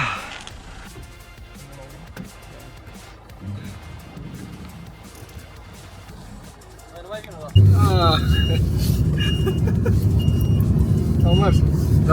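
An Aero Trike, a low three-wheeled vehicle between car and motorcycle, rides on a test drive in bad weather: a steady engine and road rumble that gets louder partway through, with a voice talking over it.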